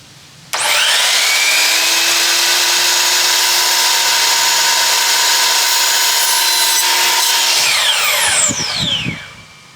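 A DeWalt power saw bites into wood after a short lead-in, a loud sustained whining cut lasting about seven seconds before winding down, with no talk.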